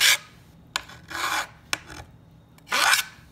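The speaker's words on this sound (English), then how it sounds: "So just a small hand file just for this one side so it's smoothed over." Small hand file rasping along a skate rail, four separate scraping strokes of varying length, close and crisp, with quiet pauses between them.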